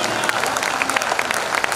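Audience applause at a Hindi poetry recital, a steady patter of many hands clapping together, dense and fairly close, with no voices over it.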